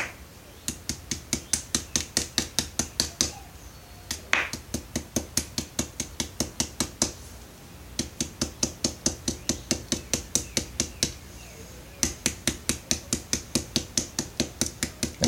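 Rapid, steady hammer taps on sinew to loosen the tendon membrane, fired off in quick rhythmic bursts with brief pauses between runs, light and close.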